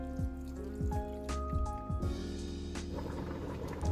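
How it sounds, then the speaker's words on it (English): Chicken broth poured into a lemon sauce while making chicken française, a steady liquid trickle and splash running close by under a faint tonal background for a few seconds. "Pour in a few cups of chicken broth, and then stir until the sauce is homogeneous."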